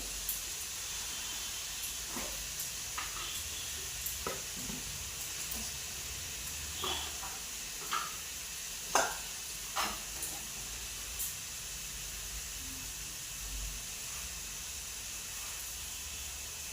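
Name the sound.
onion, ginger and garlic masala frying in pan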